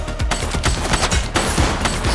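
Gunfire in the police video game The Precinct, a dense, continuous volley of rapid shots with many overlapping bangs, loud and close, and almost no talk.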